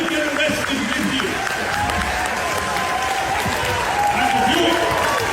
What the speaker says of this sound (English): They go on cheering for quite a while.